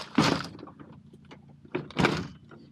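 The sliding side door of an HVAC work van is worked twice, each time a loud close rolling rush ending in a thud, with quieter rattles and clicks between.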